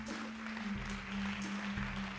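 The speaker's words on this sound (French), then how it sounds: "On peut l'applaudir, oui, c'est pas interdit." A theatre audience at the Comédie de Saint-Étienne season presentation applauds to welcome a guest on stage. The clapping is a steady, fairly quiet wash over a low electrical hum.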